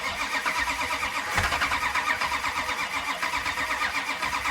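A car engine cranks on a cold start with a steady, rapid pulsing chug that runs without pause for several seconds, loud and close.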